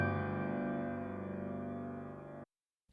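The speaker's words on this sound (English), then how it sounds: "here's the opening chord from Debussy's Sunken Cathedral Prelude" Opening chord of Debussy's Sunken Cathedral Prelude, a single sustained, richly voiced chord ringing for about two and a half seconds and fading slowly before cutting off.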